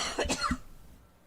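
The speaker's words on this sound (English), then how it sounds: "now he thinks he can cough on air too" A man in a live sports broadcast studio coughs once, a short, close, raspy burst followed by a quiet fade.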